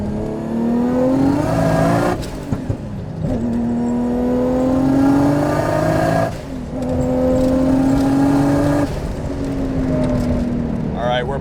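An 800 HP Nissan Skyline R33 GT-R engine on a Tokyo mountain run revs hard and climbs through the gears, with brief drops at each shift and a loud, steady drone heard from inside the car.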